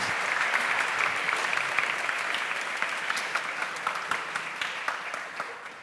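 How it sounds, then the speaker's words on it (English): Warm audience applause at the Cambridge Union, a dense, steady wash of many hands clapping that carries on for several seconds and then thins toward the end. "as you can tell from the warm Cambridge applause, we are really grateful to have you here"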